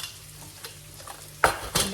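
Potatoes fry in a pan with spices such as turmeric, giving a low steady sizzle broken by two sharp, close scrapes of a spoon stirring near the end.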